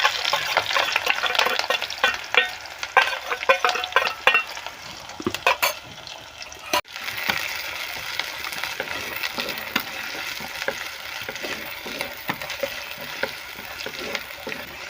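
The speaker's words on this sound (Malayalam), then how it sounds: "സവാള, ചെറിയ ഉള്ളി, വെളുത്തുള്ളി നമുക്കിതൊന്ന് വഴറ്റിയെടുക്കാം." Onions, shallots and garlic sautéing in oil with ginger, green chillies and curry leaves, giving a steady sizzle under frequent scraping and clattering stirs that fade into a softer, even frying hiss.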